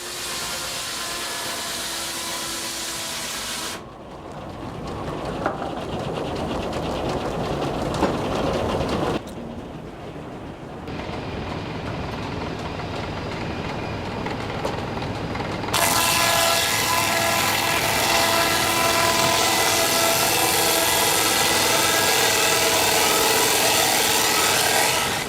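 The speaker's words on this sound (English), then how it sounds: "Modern tools help Ivan prep and haul logs, but the sawing itself is still pure water power." Water-powered sawmill cutting logs with falling water driving simple machinery: loud continuous mechanical rumble and rasping saw noise, with abrupt shifts in tone and intensity as the cut progresses, no voices.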